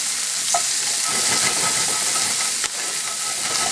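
Brussels sprouts are stirred in hot oil in a pan, producing a loud steady sizzle and hiss with scraping, rolling stir sounds, no talk.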